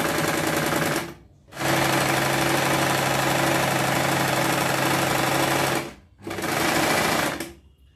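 A sewing machine runs in long steady bursts while stitching invisible piping along a high-neck blouse. It drones loud and close for about four seconds, stops briefly, then starts again, with no one talking.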